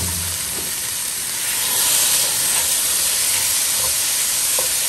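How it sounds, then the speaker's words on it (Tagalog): Pork pieces sizzle in a hot cooking pot while sautéing for sotanghon guisado, a steady loud hiss of frying fat that swells slightly midway and runs on alone without any talk. "Mainit na yung kaldero, ilalagay ko na ang"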